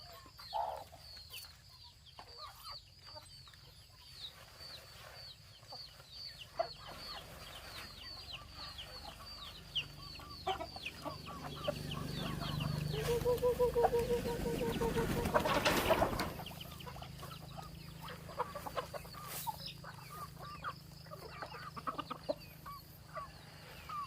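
Chickens cluck and chatter continuously as they are fed paddy rice, with a chorus of overlapping calls at close range and a louder rustling surge partway through.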